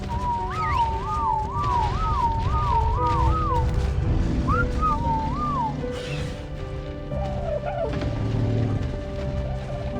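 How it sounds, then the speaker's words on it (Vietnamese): A clear, lilting whistle of repeated rising-and-falling notes cuts through ambient game sound in the survival game Ark, followed by a short second phrase and a crash, with a low rumbling bed underneath and no talk. "Lắp lan can chỗ nghi ngờ thì nghe một tiếng huýt sáo thanh thoát."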